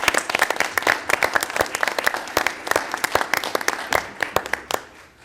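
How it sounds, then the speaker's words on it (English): Audience applause at a board of education meeting: sustained, dense clapping from a seated crowd, steady and fairly loud throughout with sharp individual claps standing out, easing slightly toward the end. "We deserve a round of applause."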